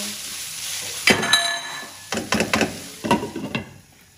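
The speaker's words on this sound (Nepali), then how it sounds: "यति हालेपछि एकछिन फ्राई गरेर भुट्नुपर्छ।" Bursts of sizzling as keema noodles are tossed and stirred in a hot pan, with scraping clatters in three clear rounds, close and fairly loud.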